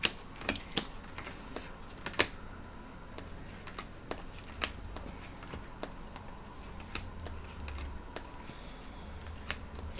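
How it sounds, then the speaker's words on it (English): Tarot cards being shuffled and sorted through a deck by hand, a steady run of soft riffling with sharp card snaps scattered throughout, close and fairly quiet, no voices. "I don't think anybody minds me digging through the deck to find your card."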